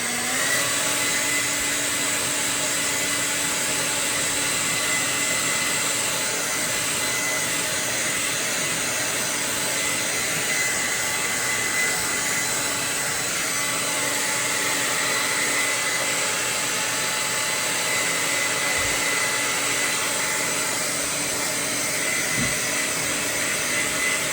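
Heat gun blowing steadily and loudly at close range while heat-setting paint on a fishing bait, a constant airy whine and roar that holds unchanged throughout with no talking.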